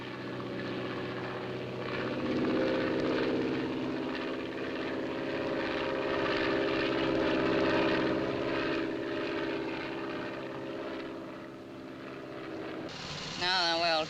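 A 1959 propeller seaplane drones in flight, a loud steady engine hum with rising and falling intensity as someone narrates over it, ending with a brief change in tone.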